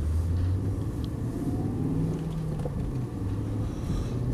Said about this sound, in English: Beautiful sound of a fast V8.